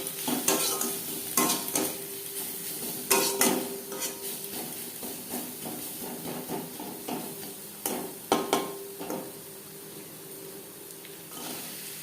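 Potatoes and onions frying in fish oil are stirred in a pan. A steady sizzle runs underneath a dozen or so sharp scraping clacks of the utensil against the metal.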